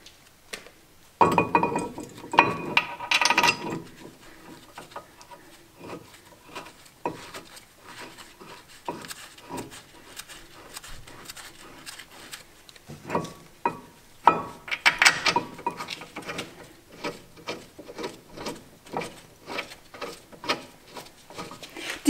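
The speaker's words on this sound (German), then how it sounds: "Die beiden Schrauben werden mit einer 21er Nuss und 172 Newtonmeter festgezogen." A 21 mm socket on a ratchet tightens the brake caliper carrier bolts on a Mercedes Vito/Viano van, giving close, faint, scattered metallic clicks and rubbing in irregular bursts with pauses.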